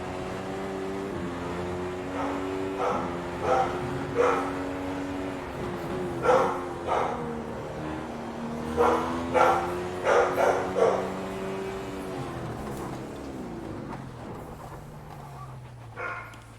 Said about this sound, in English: Dogs are freaking out about something